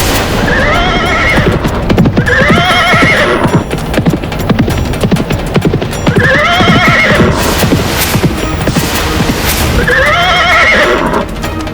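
A large herd of horses gallops in a loud, dense drumming of hooves, while repeated shrill neighs and whinnies rise over the rumble at regular intervals, close and full throughout.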